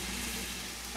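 Onions, mushrooms and other vegetables frying in a pan, a steady close sizzle running evenly throughout with a low hum beneath.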